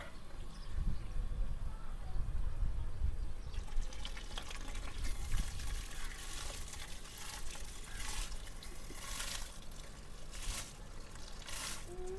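Rice poured into a pot of boiling water on a home stove, producing a rattling, watery pouring and bubbling that continues steadily for several seconds, while a person speaks.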